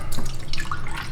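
Silk almond milk, one full cup, pours into a container with a steady splashy liquid gurgle lasting about a second, close and fairly loud.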